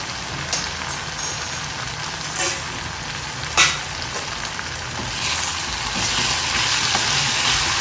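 Ground coriander and Kashmiri masala spices sizzling and frying steadily in a hot pan for squid masala, a continuous crackling hiss with a few soft stirring scrapes, growing slightly louder toward the end.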